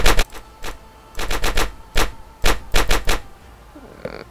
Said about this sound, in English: Weapon sound is a little too loud.